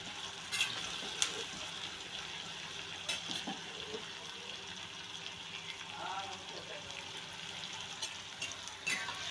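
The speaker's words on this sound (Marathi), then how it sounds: "आता हा चांगला कांदा लालसर परतून घ्यायचा." Onion frying in a pan for mutton dalcha, a soft continuous sizzle with occasional stirring scrapes and light clicks, fairly faint and steady throughout.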